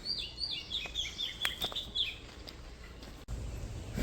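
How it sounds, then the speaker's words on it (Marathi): Several birds chirp and trill in bright, quick bursts over a quiet outdoor hush, fairly close, fading out before a dull thump near the end. "पक्ष्यांचा आवाज देखील तुम्ही ऐकताय ना जबरदस्त"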